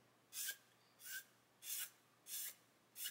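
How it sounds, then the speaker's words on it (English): A 400 grit sanding stick rubs across a small plastic model part in five even back-and-forth strokes, each a short, close, soft rasp with brief quiet gaps between. "I'm going to grab my 400 grit sanding stick"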